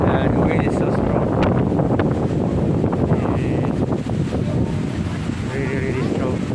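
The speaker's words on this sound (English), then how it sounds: "The wind is so strong." Strong monsoon wind buffets the microphone on Boracay beach, a loud, steady roar with surf noise running through, while a person talks over it.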